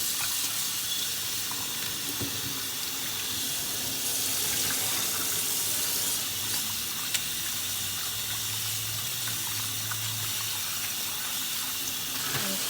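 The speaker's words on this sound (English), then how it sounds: "Let's go ahead and wash this meat off." Beef stew meat is rinsed under a running kitchen tap, the water pouring in a steady, continuous splashing rush into the sink throughout, with occasional small clunks of handling.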